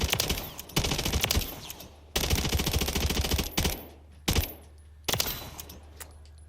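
AMR9 submachine gun in Modern Warfare III firing several rapid full-auto bursts, close and loud, each a dense rattling stream of shots with tinkling casings, separated by brief pauses and ending in short bursts.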